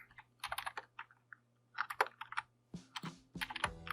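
Keystrokes on a computer keyboard while entering input for a Python program, coming as irregular bursts of quick, close clicks with short pauses between them and no voices.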